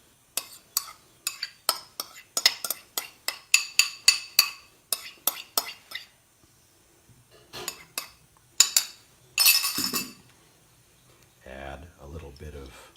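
Broad beans tipped into a serving bowl, with bright clinks and taps of dishes and utensils in quick irregular clusters, fairly close, then a short scraping rustle at the end; a person speaks over it.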